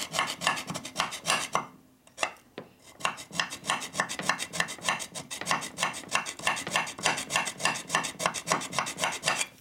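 Aluminum clutch housing on a 1974 Harley-Davidson Shovelhead being cut by hand, a close, rapid rhythm of rasping back-and-forth strokes that runs steadily apart from a short pause early on.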